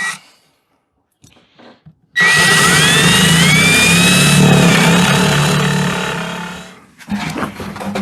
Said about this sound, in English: just kind of lining up my hole, using this Forstner bit, and going with it